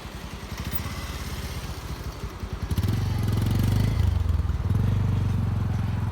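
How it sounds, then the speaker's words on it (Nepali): Motorcycles ride across the Koiya bridge over the Kali Gandaki, one engine pulsing rapidly nearby before a louder, steadier engine drone swells in. "धौलागिरीबाट पर्वततिर आइरहेको बाइकहरू हो"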